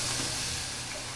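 Marinated chicken hits hot spices in a pan and gives a loud, steady, broadband sizzle that fills the whole brief moment.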